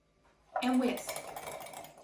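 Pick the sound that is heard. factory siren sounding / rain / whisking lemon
whisking lemon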